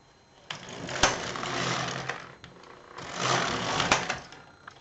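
A knitting machine carriage is pushed across the bed to knit two rows of a two-colour fancy hat, giving two loud mechanical sweeps of whirring and rattling, each with sharp clacks at the ends of the pass.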